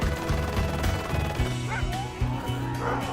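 Sled dogs at a musher's dog yard in Alaska, where about 150 dogs live, bark and yip loudly in a dense overlapping chorus that continues throughout, with some whimpering mixed in.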